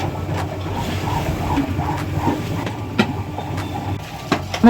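Brick-making mixer machine spinning and churning a wet mix with fine gravel, a steady rumbling, rattling drone with periodic knocks and clacks, close and continuous throughout.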